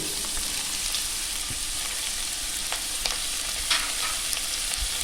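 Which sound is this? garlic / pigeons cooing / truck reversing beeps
garlic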